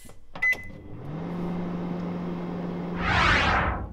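A microwave oven heating a Devour cheesy tuna melt: a button beep and door thud, then a steady low electrical hum begins and holds close, with a brief whooshing noise near the end; no one speaks.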